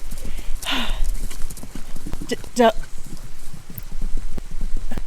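A horse's hooves clip-clop in a steady, fast rhythm under continuous close talk, with a brief whinny partway through.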